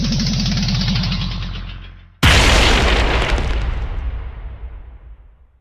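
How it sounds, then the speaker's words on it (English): A loud video-game explosion in Learn Japanese to Survive Kanji Combat bursts in suddenly after a low rumbling buildup, then rolls on as a broad, crackling roar that slowly fades out. "What an explosion!"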